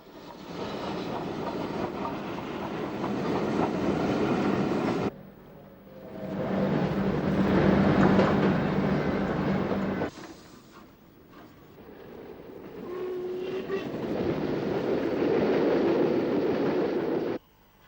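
Train carriages rumbling and rattling along the tracks near Clapham Junction, heading to the carriage sidings, in three long passes, loud and close, with clattering wheels and a brief metallic squeal.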